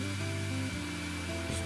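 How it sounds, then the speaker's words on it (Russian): A vacuum cleaner in the House Flipper 2 video game runs with a steady, dense whooshing drone and a slight dip midway, loud and continuous with no talking. "О, у нас есть пылесос."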